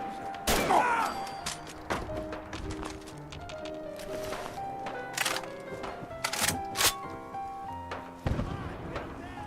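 Bursts of explosions and rapid gunfire crackle over layered game music and effects in Fallout 4, with sharp repeated blasts scattered throughout.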